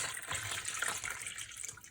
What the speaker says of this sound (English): Now the water I have left, I'm going to put it in a 4th tub